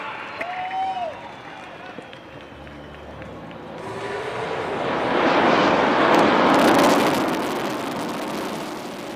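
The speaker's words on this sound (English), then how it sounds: "ஸ்லோவா, பொறுமையா, அழகா, மெதுவா, உங்கள் முன்னால் Su-30 MKI." A Su-30 MKI fighter jet flies slowly past at an air show over Marina Beach in Chennai, its engine roar swelling from distant to a loud broad rush amid crowd noise and talk.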